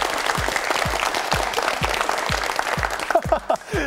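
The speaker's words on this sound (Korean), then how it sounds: "박수 주세요." Studio audience on a KBS Korean-language word quiz show applauds in a loud, dense, continuous wash of clapping that holds steady and then thins slightly at the end.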